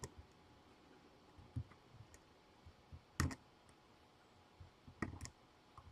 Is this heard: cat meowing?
no